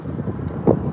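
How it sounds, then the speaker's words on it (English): Wind buffets the microphone outdoors during a walk, a low continuous rumble with a brief gust near the end. "Now it's windy, guys."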